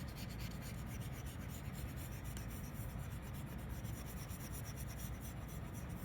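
A pencil eraser rubs out faint sketch lines on paper in a continuous soft scrubbing, very quiet and close with no talking.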